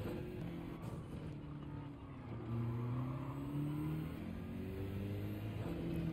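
Porsche GT1 race car in a racing video game, its engine revving and shifting through rising and falling tones at moderate, steady volume with no talking.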